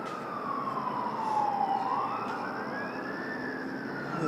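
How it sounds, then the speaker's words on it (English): An ambulance siren wails, sweeping slowly down and back up in pitch over a low traffic rumble, faint at first and steadily building as it nears. "Hear an ambulance coming here."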